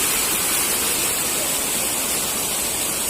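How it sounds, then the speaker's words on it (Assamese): A waterfall below a rocky slope sends up a steady, dense rush of falling water, loud and unbroken throughout with no voices. "তলতে এটা জলপ্ৰপাত আছে"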